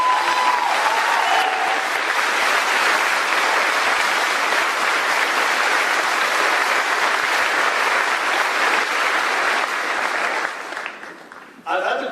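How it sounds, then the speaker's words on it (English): Long, even applause from a high school graduation audience honoring a staff member, a dense steady clapping wash that fades out near the end before a voice returns. "So we can give a round of applause for Mr."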